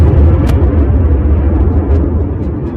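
A deep, loud explosion rumble roars continuously, a heavy low boom that slowly fades without pause.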